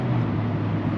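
A 2023 Mazda Miata's four-cylinder engine running, a steady low drone with a strong hum and even rumble, heard close from inside the car for about a second.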